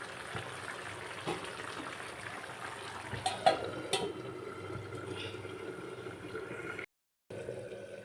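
Country chicken curry simmering in a covered pot over a medium flame, giving a steady low bubbling and watery seething with small irregular pops, fairly quiet and continuous with no voices.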